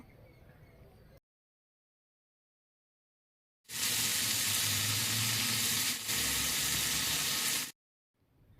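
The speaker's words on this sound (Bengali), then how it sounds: "এখন আমি এই চালতাটাকে ভালো করে ভাজতে থাকবো" Elephant apple (chalta) pieces frying in a pan for a Bengali recipe give a loud, steady sizzle lasting about four seconds, set between near-silent stretches with a brief dip midway.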